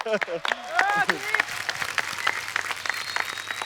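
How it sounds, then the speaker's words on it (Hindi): A studio audience at a TV comedy show applauds for Kiku in a short burst of dense clapping, with voices and some tonal sounds mixed in over it. "हमारे कीकू जी, इनके लिए जोरदार तालियां।"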